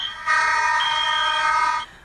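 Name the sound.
smoke alarms going off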